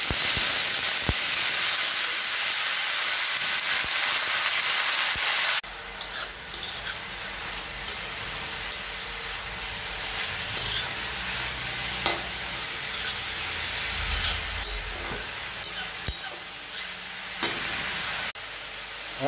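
Red amaranth greens sizzle in hot oil with green chilli and tempering spices, a steady loud frying hiss followed by stirring scrapes and a softer sizzle later on.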